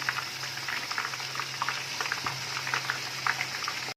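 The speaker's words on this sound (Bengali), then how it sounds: "চিকেনগুলো আমি লাল করে একদম ভেজে নিয়েছি দেখুন।" Marinated small chicken leg pieces frying in hot oil, with a steady close crackling sizzle and dense popping bubbles throughout, no talking.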